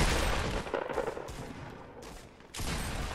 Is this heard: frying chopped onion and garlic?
no